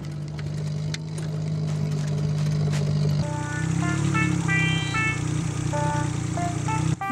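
A car engine runs steadily while the car is driven erratically, first with a low droning hum, then with a shift to a busier revving pattern with repeated tonal pulses that stays loud to the end.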